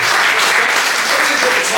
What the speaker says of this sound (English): just give her a round of applause again, a big clap tonight